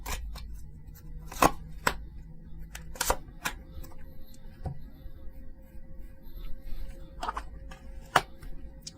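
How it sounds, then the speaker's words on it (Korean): Tarot cards are shuffled and flicked in short, sharp clusters of crisp taps and snaps, heard close against a quiet room with long gaps between the bursts. "자, 그러면 제가 2장 뽑도록 하겠습니다."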